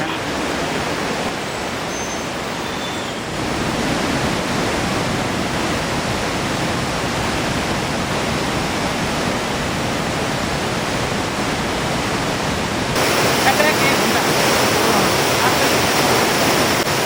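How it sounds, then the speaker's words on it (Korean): Roaring glacial meltwater stream in a Himalayan valley in Nepal's Langtang area near Bamboo, a dense continuous rushing roar that stays loud and close throughout, swelling slightly near the end. "계곡 물소리가 더욱 거칠어지는 걸 보니 뱀부에 거의 다 온 것 같습니다."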